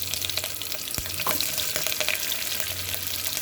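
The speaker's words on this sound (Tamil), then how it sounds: "கடுகு பொறிஞ்சிக்கிட்டு இருக்கு இந்த கடுகு பொரியிற சவுண்டே ஒரு தனி" Mustard seeds popping and crackling in hot oil for sambar, a dense continuous sizzle dotted with sharp pops and spatters, close and loud without any talk.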